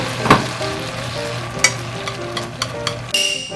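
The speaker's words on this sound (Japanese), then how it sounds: "もやしはさっと炒めたらお皿に取り出しておきます。" Stir-fried bean sprouts sizzle steadily in a hot pan, with a few sharp clatters of the spatula against the pan and no talking.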